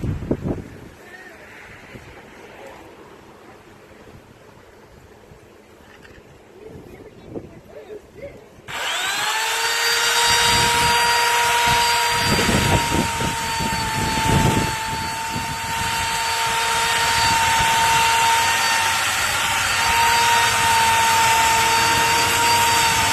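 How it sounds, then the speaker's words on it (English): A pole chainsaw starts up partway through, then runs loud and close, its engine droning and shifting in pitch as it cuts the top off a bush near a house roofline. "I've got my chainsaw on a stick, which I love, and I'm going to just cut the top off this"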